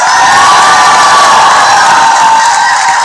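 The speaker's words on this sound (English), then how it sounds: "It's so nice to have like an actual applause here." A live audience at a Movie Trivia Schmoedown event cheers and whoops loudly and continuously, with a dense crowd roar and scattered high shouts for about three seconds.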